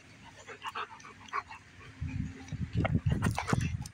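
A dog plays catch outside on a cool day, panting quickly and whimpering close by, its breathing growing louder and more rhythmic toward the end, with no talk over it.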